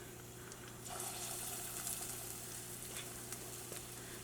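Urad dal bonda batter drops into hot oil and fries with a steady, soft sizzle that continues alone with a faint electrical hum beneath.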